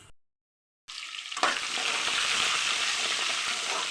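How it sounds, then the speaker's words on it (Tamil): Dried red chillies and onion drop into hot oil for a fenugreek-leaf kuzhambu: after a brief silence a sudden burst of frying erupts, then a dense, steady sizzle holds close and loud. "காஞ்ச மிளகா போட்டுக்கலாம், வெங்காயம் போட்டுக்கலாம்"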